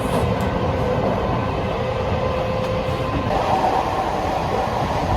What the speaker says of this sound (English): I'm on the train, going to Fez.